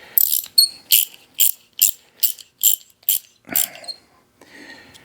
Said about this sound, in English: So I'm gonna take a wire brush, clean them off.